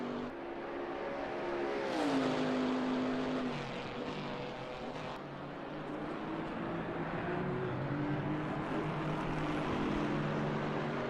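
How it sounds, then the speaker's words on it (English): A Camaro GT4 race car in a PC racing game at the Nürburgring GP circuit, its engine droning and revving continuously, pitch rising and falling through gear changes and corners, loud and close throughout with no talking. "Kalen is certainly bullying this Camaro around"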